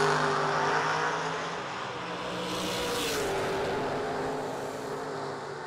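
A Camaro race car roars along a racetrack at a vintage motorsports event, its engine a sustained, loud drone that swells slightly as it passes.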